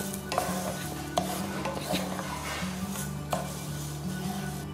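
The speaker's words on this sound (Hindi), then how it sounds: "गैस की फ्लेम स्लो रखेंगे और इसे कंटिन्यू हिलाएंगे" Coriander panjiri stirred continuously in a pan over a low flame, a soft scraping and gentle sizzle with occasional sharp clinks of the spoon against the pan, close and steady, no voices.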